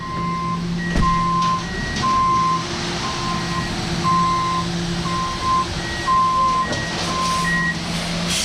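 A concrete truck arrives at a house flip site on a windy day and backs up, its reversing alarm sounding a steady series of loud, evenly spaced beeps over the rumble of the diesel engine.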